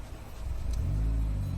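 A Toyota Chaser JZX100, converted from automatic to manual, revs up from a low idle rumble into a loud, steady engine drone close by.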